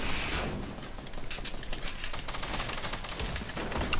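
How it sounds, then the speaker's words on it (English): Gunfire in the Fortnite video game rattles in dense, rapid bursts that fill the whole clip, loud and continuous like a sustained fusillade, with no talk over it. "Oh, was that shooting even at me?"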